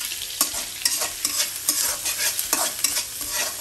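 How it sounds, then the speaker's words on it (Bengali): Small shrimp and a whole dried red chili frying in a pan give a bright, continuous sizzle, broken by regular scraping strokes as a spatula stirs them, close and with no talk. "এখন সেই যে আমি চিংড়ি মাছগুলো নিয়েছিলাম ছোট চিংড়ি, এগুলো দিয়ে দিলাম।"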